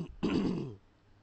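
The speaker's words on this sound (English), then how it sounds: "Oh, I'm so sorry about the coughing." A throat-clearing cough from a streamer, a single short harsh burst close to the mic, fading quickly into quiet room tone.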